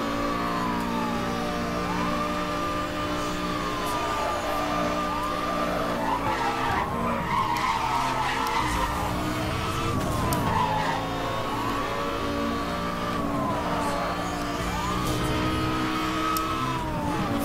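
A Lamborghini tears through a race in Need for Speed Hot Pursuit on PS3, its engine roaring steadily while tires squeal in repeated sweeping skids, loud and continuous throughout.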